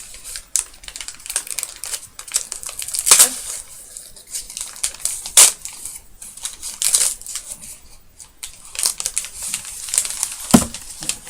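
Crinkling packaging with a few sharp rips and tears of tape, close up and sporadic, with quiet handling between.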